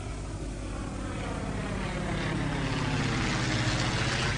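Airplane in flight carrying a precision atomic clock on a several-hour trip, a constant broad engine drone and rushing cabin noise, steady and even throughout with no voices.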